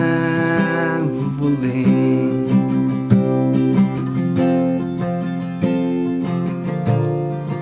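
A full band plays a steady chord progression with strummed guitar chords, sustained and continuous, loud and upfront with no talking.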